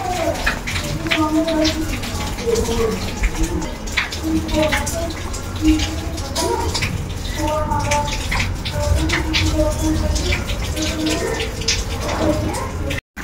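Water splashes and patters unevenly as Gubli, a pet dog, is bathed after a shampoo, close and fairly loud, with voices talking over the wet sounds.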